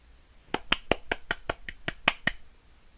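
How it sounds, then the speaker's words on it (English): About ten sharp, evenly spaced claps in a video game, sparse and distinct like a lone person clapping rather than a crowd, close and clear against near silence. "That was me clapping."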